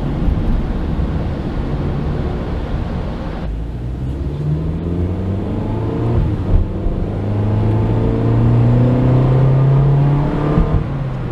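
Engine of a 2013 Honda Fit Base pulling at quarter throttle during a night drive, its droning note climbing steadily in pitch over a constant road rumble with no talking.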